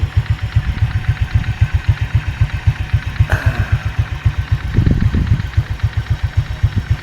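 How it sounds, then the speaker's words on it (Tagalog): A Honda Click V2 motor scooter engine idles steadily up close with a rapid, even putter, a brief clunk midway and a short rise in revs near the end. "pakinggan nyo po mabuti yung anda ko ng makina natin"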